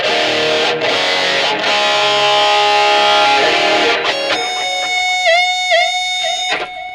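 An electric guitar played through a BOSS eBAND JS-10 with its reverb switched off sounds distorted chords, then sustained, bent lead notes that stop dry without any lingering tail.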